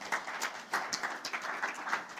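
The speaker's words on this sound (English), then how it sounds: "It's a good place to clap. You can clap." Audience clapping at a talk, a quiet scattered applause of many hands with uneven rapid claps, moderately distant and fairly soft, heard alone without speech.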